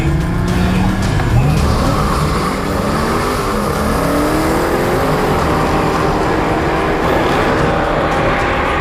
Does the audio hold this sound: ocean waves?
no